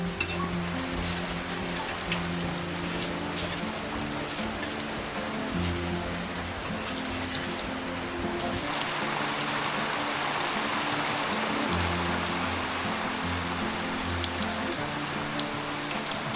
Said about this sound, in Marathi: पावसाने जोर वाढवलाय.